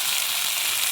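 Freshly caught river fish frying in oil on a pan outdoors by a stream, giving a steady, dense sizzle that crackles close and loud the whole time, with no voices.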